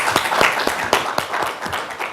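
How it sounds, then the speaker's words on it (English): Applause for a conference panel: a small group clapping for just over two seconds, scattered individual claps standing out over a loose, moderately loud patter. "can we start with giving our panelists a round of applause?"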